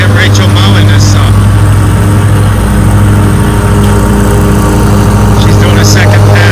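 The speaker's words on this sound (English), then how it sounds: "Let's get Rachel mowing this up" A Ferris Z3X zero-turn lawn mower runs steadily while mowing a lawn, its loud, close engine droning continuously with a deep hum, and a voice is faintly heard over it.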